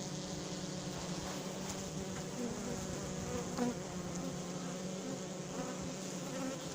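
A honeybee swarm being hived in the Fontainebleau area gives off a dense, continuous buzzing drone, close and steady throughout, with no talking over it.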